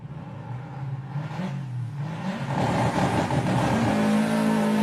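A drag racing car launches in second gear at Santa Pod Raceway, its engine rising into a loud, building roar that swells and holds near the end amid a broad rumble from the strip.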